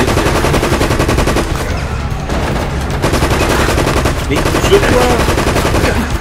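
Rapid automatic gunfire rattles almost without pause through a firefight in the video game Resident Evil: Operation Raccoon City, loud and dense, with a voice speaking briefly over it.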